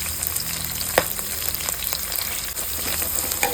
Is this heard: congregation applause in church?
no